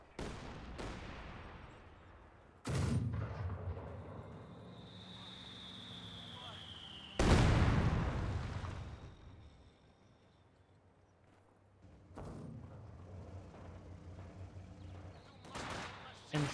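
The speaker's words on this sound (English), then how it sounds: "120mm mortars barraging that area" A 120mm mortar barrage in Company of Heroes 2, heard as several heavy booming impacts spread across the span, with a whistling incoming shell and scattered gunfire between them.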